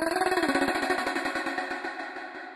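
A sound processed through an auto pan effect in Ableton, its rate automated to start high and slow down, pulses alone in rapid rhythmic chops that gradually widen in spacing and fade slightly.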